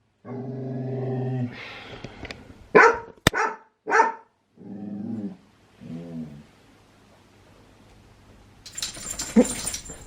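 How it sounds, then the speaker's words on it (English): Bungo the dog barks in several sharp, loud bursts, then growls and grumbles between them in a home in the evening, with quieter stretches and a brief noisy flurry near the end. "Is he barking at you?"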